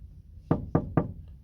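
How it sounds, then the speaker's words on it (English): Three firm knocks on a door, evenly spaced and close, ringing out alone over a faint background hum. "Zuko hears a knock from his door,"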